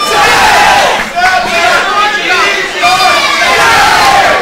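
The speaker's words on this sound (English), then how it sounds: "The crowd repeating the number 10." A loud wrestling crowd at an FBW independent show chants a ring count in unison, voices rising and falling in repeated rhythmic waves that fill the room throughout.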